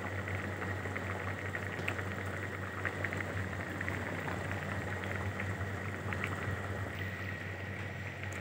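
Mustard oil sizzles in a cooking pan with a dense, steady bubbling crackle over a low constant hum, close and even throughout with faint scattered pops.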